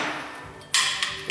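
A hammer knocking stuck brake pads out of a caliper bracket on a Suzuki XL7 during a brake job, with sharp metallic strikes over background noise, one strong hit followed by two lighter taps.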